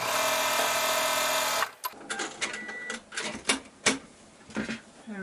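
Sewing machine stitching a seam on a quilt block, a steady fast mechanical whir that stops abruptly, followed by scattered clicks and handling noises of fabric and tools.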